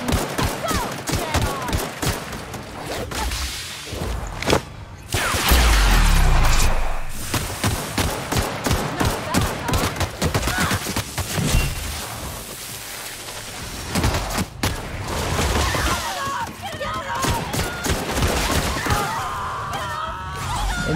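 Rapid gunfire bursts crackle through combat in The Outer Worlds, dense volleys of shots and thuds with a heavy blast midway, loud and close, alongside occasional brief voices.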